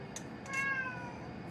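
A cat gives a single short, quiet meow against a soft indoor background.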